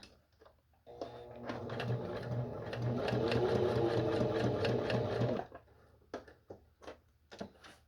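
A sewing machine stitches around a paper junk journal insert in one steady, loud run of fast rhythmic needle clatter lasting about four seconds, then stops, leaving a few soft handling clicks and rustles.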